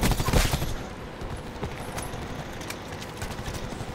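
Gunfire in the video game Call of Duty Black Ops 4: a loud burst of rapid shots opens, then scattered cracks and rattling fire continue at a lower level.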